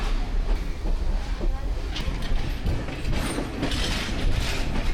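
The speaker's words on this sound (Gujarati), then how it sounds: "તો મિત્રો ફાઇનલી આપણી ટ્રેન આવી ગઈ છે." A train pulling into Colombo Fort railway station in Sri Lanka, with loud rolling wheels, clanking wagon mechanisms and squealing metal building over several seconds close by.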